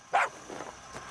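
A pet dog gives one close, short bark followed by a couple of fainter yips, heard indoors at modest volume.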